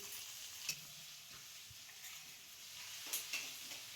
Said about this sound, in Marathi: कांदा छान आपल्याला असा परतून घ्यायचा आहे बारीक गॅसवरती